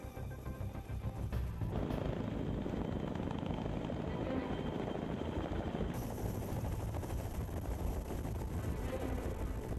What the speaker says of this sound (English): For this presidential mission, not one, but 4 helicopters must squeeze onto the pad.